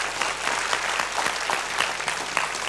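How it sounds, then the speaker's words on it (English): An audience at a semifinal debate competition applauds the contestants, producing dense, steady clapping that holds at an even level from start to finish. "audience, can we please give a round of applause to the contestants?"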